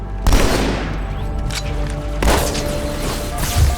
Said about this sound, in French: Ok, j'ai une petite grenade, j'ai essayé de bien la placer.